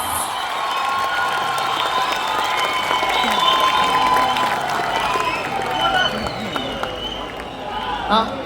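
Audience at a ragolsavam stage concert applauding and cheering to welcome a singer, a sustained wash of clapping and crowd noise throughout, with voices mixed in.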